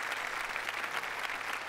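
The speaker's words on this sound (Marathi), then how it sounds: "जोरदार टाळ्या दोघींसाठी." A studio audience applauds two women guests on stage at a Marathi comedy show, steady dense clapping throughout, moderately loud and without speech.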